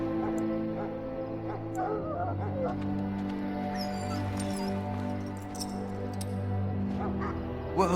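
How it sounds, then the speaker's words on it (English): An injured dog in the fantasy video game Dragon Age Origins whimpers and yips softly in a repeated, plaintive pattern, set over a steady low ambient game drone with faint background voices. "Now I can treat the dog properly, poor fella."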